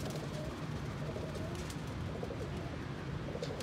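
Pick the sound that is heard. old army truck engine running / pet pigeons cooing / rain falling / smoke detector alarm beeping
pet pigeons cooing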